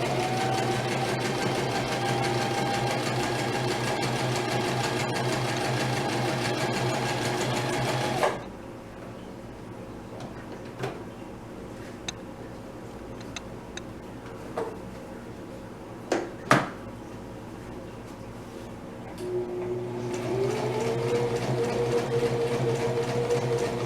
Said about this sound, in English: to sew right along the line that I just sewed